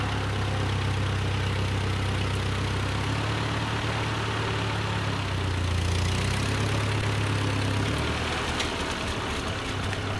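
A tractor with a front-end loader runs while loading logs onto a home-built log deck, its engine a loud continuous chugging drone that shifts slightly in pitch without any talking.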